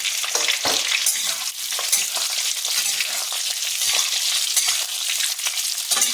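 Onion, cumin and dry red chillies frying in hot oil in a pan, a loud continuous sizzle with crackles and occasional stirring, close and alone.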